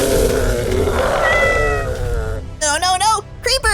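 Cat meowing in the Minecraft video game, a few short loud meows near the end following a stretch of dense game noise, close and clear with no speech over them.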